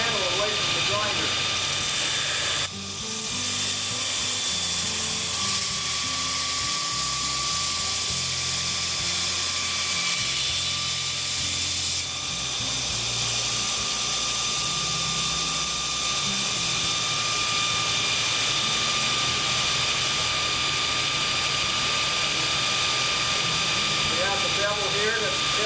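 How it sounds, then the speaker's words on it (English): A knife blade is ground on a grinder while the maker pulls the handle away toward the point, a loud steady whine and roar of the grinder with tonal hum and a brief shift partway, a voice speaking over it. "I'm pulling the handle away from the grinder"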